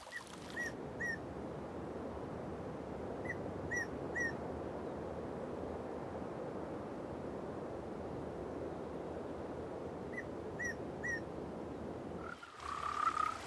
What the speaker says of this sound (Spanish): En esos páramos húmedos hay cantidad de sapos bullangueros